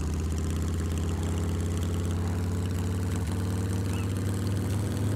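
A moped engine runs steadily while being ridden in the video game SCUM, a loud, continuous low drone with a buzzy pulse and no breaks.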